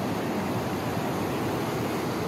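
A small waterfall at a resort in Bijanbari, Darjeeling, rushes in a constant loud, even roar of falling water up close.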